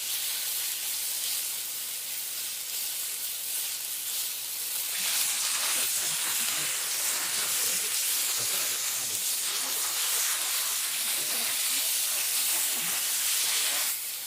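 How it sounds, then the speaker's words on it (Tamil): Ginger garlic paste sizzles in a hot pan with oil while channa masala is being cooked, giving a steady, fairly quiet hiss that grows denser and crackles more in the second half, with no talking. "இது கூட நம்ம இப்போது 2 ஸ்பூன் இஞ்சி பூண்டு பேஸ்ட் ஆட் பண்ணி நல்லா குக் பண்ண போகிறோம்."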